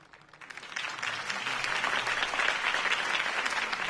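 Crowd applause swells up after a mayoral campaign speech in the Batman Telltale Series game, building from quiet to a sustained, dense clapping of a large audience.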